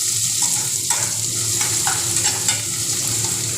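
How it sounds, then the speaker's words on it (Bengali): Chopped onion frying in a pan while being stirred, a constant close sizzle with a few soft scraping strokes of the spoon over it, no voices. "এবার পেঁয়াজটাকে ভালো করে ভাজা করে নিব,"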